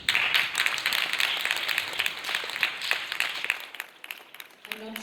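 An audience at a school inter-house English drama competition claps in a dense, sustained burst that fades toward the end, with no talk over it.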